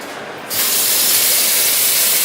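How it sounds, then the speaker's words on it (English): Tap water suddenly gushes into a kitchen pot, a loud, steady broadband hiss that starts abruptly and keeps flowing close by, with no voices. "we're going to fill this up with a bit of water just below."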